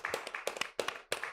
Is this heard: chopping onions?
no